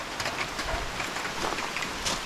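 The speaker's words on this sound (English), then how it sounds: "The rain just started coming down again." Rain falls steadily in a Costa Rican rainforest around the hanging bridges at Heliconias Rainforest Lodge, a continuous close hiss of drops with faint scattered patters and no voices.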